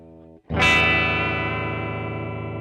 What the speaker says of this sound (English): a really cool way of getting that sort of vibrato or bend sound without actually bending the strings